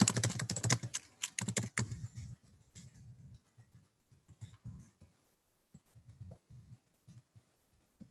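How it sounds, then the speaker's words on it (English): Fingers tap on a computer keyboard in a quiet room, with quick bursts of keystrokes at first that thin out into scattered, irregular clicks with pauses between them. "Excuse my typing, everybody."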